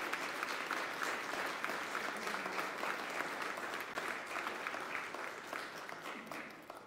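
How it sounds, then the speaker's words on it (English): A church congregation at a Fifth Sunday of Easter worship service gives sustained, even applause. The clapping is dense and moderately distant, filling the room and gradually fading at the end. "We give them a round of applause,"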